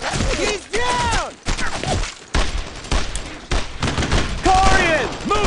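Gunfire in the 2005 World War II shooter Brothers in Arms: Road to Hill 30, with loud repeated rifle and machine-gun bursts and impacts, mixed with shouted voices over the battle.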